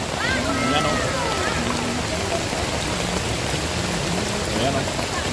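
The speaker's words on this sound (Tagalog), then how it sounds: "Sobrang lakas yung ulan." Heavy rain pours near a river at Estrella Falls in Narra, Palawan, a loud, dense and steady hiss that fills the whole stretch, with a voice talking faintly underneath.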